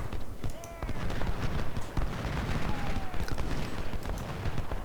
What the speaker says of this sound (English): this guy, this is shooting musket